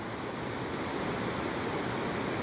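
A mountain waterfall on a forest trail near the Musa-Achitara ridge gives a constant, loud hiss of falling water, broad and unbroken, with no voices over it.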